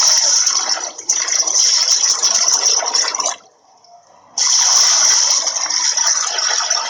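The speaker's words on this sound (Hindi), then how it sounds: "ये देखिए पानी डाला इसमें" Water pours steadily into a washing machine tub as a loud, continuous splashing rush, briefly cutting off for about a second before resuming at full strength.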